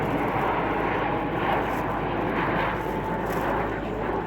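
Frecce Tricolori jet aircraft roar past during an air display at RAF Fairford, a loud, sustained broadband engine rush that swells and fades slightly over a few seconds without any voices.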